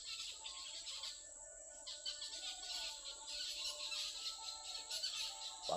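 Faint birds call from far off across a foggy morning field beside a weed-covered pond, scattered chirps over a steady insect-like trill.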